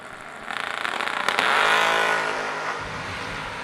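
A drag racing car, a Nova among the launches, roars off the strip with a rising, close, loud engine revving that quickly swells and then fades as it pulls away.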